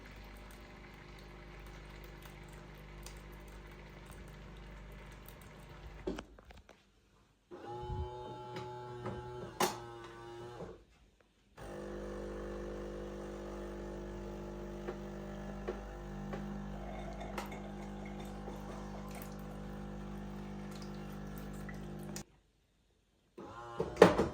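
An Arzum OKKA espresso machine runs its self-cleaning cycle with a steady pumping hum and gurgling water, broken by several brief pauses and a burst of ticking clicks.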